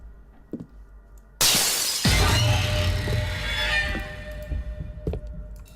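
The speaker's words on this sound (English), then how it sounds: "That was a really loud sound for a picture falling." A falling picture strikes and its glass shatters loudly in a sudden crash, followed by a lingering spray of tinkling shards that slowly fades.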